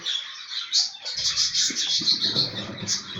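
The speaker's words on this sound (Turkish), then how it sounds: "Dişi sürekli olarak zaten yem istiyor erkeğimizden." A female bird begs insistently from the male for food, a steady run of high, thin cheeping calls close by, with soft low rustling and fluttering underneath.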